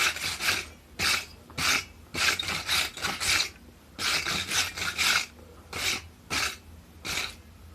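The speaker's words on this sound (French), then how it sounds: "Un bon coup de brosse." Stiff brush scrubbed over hot forged metal at a forge, in repeated short rasping strokes of uneven rhythm, close and fairly loud, with no talk.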